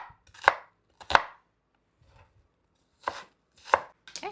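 A knife slices through an onion on a cutting board for hot dog topping, with five crisp chops spaced irregularly and separated by quiet gaps.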